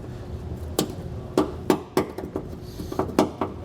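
A flathead screwdriver pries the center out of a plastic trim panel clip on a 2021 Mercedes, giving several sharp close clicks and taps at an irregular pace against quiet background.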